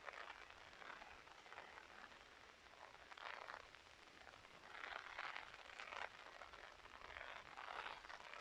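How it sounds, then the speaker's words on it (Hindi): Light rain falls steadily in a village with gusting wind, a continuous soft hiss that swells in a few stronger waves, with no voices over it. "हल्की हल्की बारिश और प्लस में हवा।"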